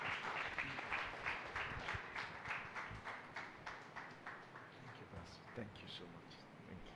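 Audience applause welcoming Pastor Sushil at a church gathering, a steady wash of many hands clapping throughout with slightly uneven pulses, fairly close and moderately loud.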